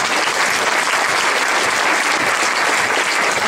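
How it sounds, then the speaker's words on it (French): Audience applause at a French craft workshop event honoring a handmade garment, a dense, steady wash of clapping held at full strength from start to finish with no voices over it. "Elle mérite des applaudissements."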